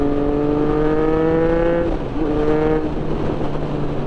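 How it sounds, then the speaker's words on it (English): A loud, steady 2024 Triumph Street Triple motorcycle engine drone with a tonal exhaust hum, dipping briefly then settling back, close by and continuous. "I feel like I have much more of a presence on my bike with this exhaust making all this noise"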